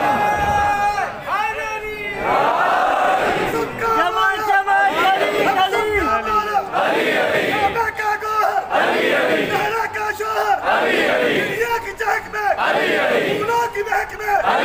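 A large congregation at a Shia majlis commemorating Imam Ali in Hyderabad chants a religious slogan in loud, rhythmic call-and-response bursts, voices swelling together repeatedly in close, full-throated unison.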